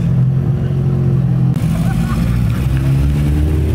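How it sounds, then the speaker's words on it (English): A Nissan Z with a closed differential drifts through a regular turn, its engine droning loud and steady throughout, with a low rumble and some faint voices in the background. "I like how the Z has to like drift into a regular turn just because it has closed diff."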